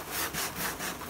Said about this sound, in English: So we have a belt sander